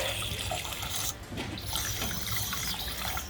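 Water pours steadily from a supply line into a swamp cooler's reservoir as it fills toward a float valve, a close, continuous hissing splash with no talking.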